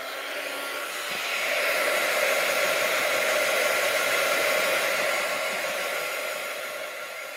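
A hair dryer blowing on a small heart-shaped craft piece, a steady whooshing motor drone that swells louder as it moves closer and then eases slightly, continuous for several seconds with no talk.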